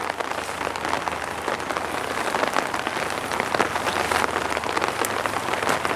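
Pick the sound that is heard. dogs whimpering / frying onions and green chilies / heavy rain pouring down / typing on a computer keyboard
heavy rain pouring down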